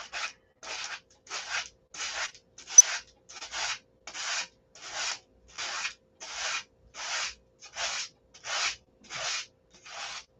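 Hand sanding with sandpaper on a ribbed part: about sixteen steady, evenly spaced back-and-forth scratchy strokes, close and moderately loud, with no talking.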